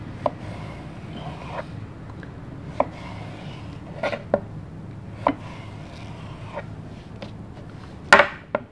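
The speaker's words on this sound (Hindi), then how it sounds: "ये इस तरह लंबे लंबे पीस इसके काट लेंगे" A knife cuts zucchini into long pieces on a board, with sharp, separate chops spaced irregularly over several seconds and a louder double knock near the end, heard close up with no talking.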